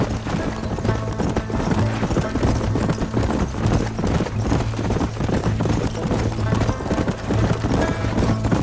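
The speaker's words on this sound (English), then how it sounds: "My horse can't keep up." Rapid rhythmic hoofbeats of a galloping horse in the video game Red Dead Redemption pound continuously, loud and close, with a steady low hum underneath.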